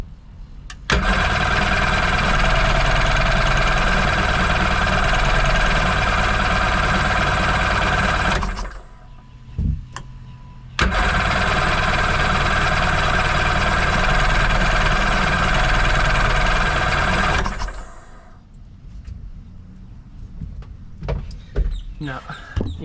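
A cheap secondhand jet boat engine runs steadily and loud up close for about eight seconds, cuts out briefly, then restarts and runs again before shutting off, leaving quiet clicks and faint handling noise.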